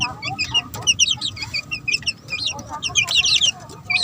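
Green-legged chicks peep in rapid, high, overlapping chirps while being held, loud and close, with bursts of several birds calling at once.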